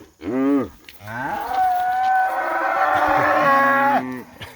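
Cattle moo loudly and close during a cattle drive, two long drawn-out calls, the second stretching for several seconds, with no talk over them.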